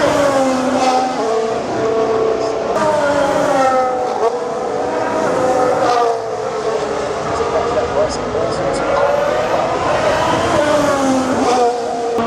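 Current Formula 1 race cars pass by at the Melbourne Grand Prix, with a loud, continuous high-pitched engine whine that rises and falls as cars sweep past one after another, with crowd noise and voices underneath.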